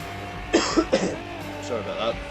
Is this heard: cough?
yes